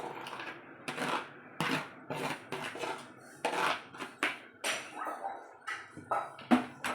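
Metal spoon scraping and clinking against a cooking pot while coconut is stirred into kootu, with repeated close, uneven knocks and scrapes and no voices.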